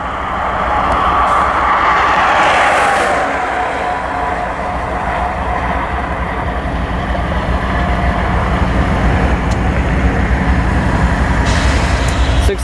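Amtrak train 8 departing St. Paul, a loud steady rumble of locomotive and rolling cars passing nearby, sustained throughout with brief higher squeals and clanks.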